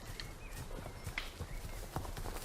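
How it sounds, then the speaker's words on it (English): Horse hooves clip-clop in a quick, uneven rhythm, with mares and young foals moving close together, fairly near over a steady outdoor background. "The young horses stick tight to their mothers."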